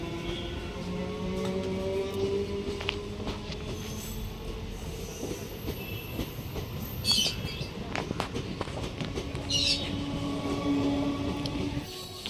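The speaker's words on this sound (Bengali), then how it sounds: "ট্রেনটা বেরিয়ে গেল" A train pulls out of Dakshineswar railway station, its continuous rumble of wheels and carriages rolling past with occasional metallic squeals, loud and steady throughout.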